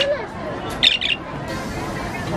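Short, bright squawks from birds for sale at a stall at Tamu Tuaran, an outdoor market in Sabah, rising briefly over a steady crowd hubbub.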